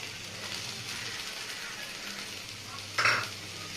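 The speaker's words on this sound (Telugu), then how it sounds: "ఇందులో నేను ప్రాన్స్ వేసుకుంటున్నాను." Seven or eight large prawns frying with onions in a pan give off a steady, gentle sizzle, and near the end a single louder clatter of food dropping into the hot oil.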